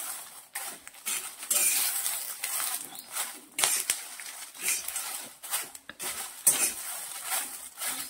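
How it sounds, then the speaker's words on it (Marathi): Marathwada-style kala masala spices roasting in a little oil in a pan, with a nearby spatula repeatedly scraping and clattering against the metal over a faint steady hiss. "पहा अगदी 2 मिनिटं आपल्याला भाजून घ्यायची आहे"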